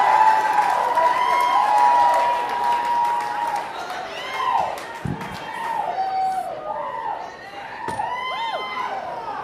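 A comedy club crowd applauds and cheers for stand-up comedian Nate Wachter, a sustained clapping wash with scattered whoops and shouts throughout.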